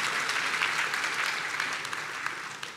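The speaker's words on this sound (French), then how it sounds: "Merci pour vos applaudissements." Sustained applause from an audience at a graduation ceremony, a dense, steady wash of many hands clapping at moderate distance with no voices standing out.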